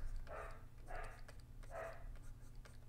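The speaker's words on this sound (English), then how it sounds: "Oh, there goes my dogs. That ear-piercing sound." A pet dog barks indoors at passersby, three distinct medium-loud barks spaced roughly evenly apart, heard alone without talk.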